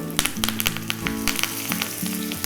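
A tempering of asafoetida, curry leaves and dried red chillies sizzles in hot oil, a loud steady fry with sharp crackles and pops over a low clatter of stirring.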